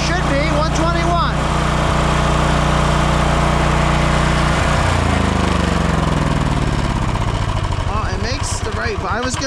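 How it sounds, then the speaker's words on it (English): A quiet portable generator engine hums steadily and loudly at close range, its pitch shifting as the RPM changes partway through, with a person talking briefly at the start and end. "That's so nice to have quiet generators."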